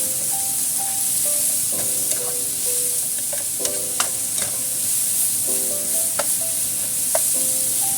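Chicken seasoned with salt sizzles steadily in a pan for a casserole stew, its loud, constant hiss broken by occasional spatula scrapes and clinks from stirring, heard up close with no one talking.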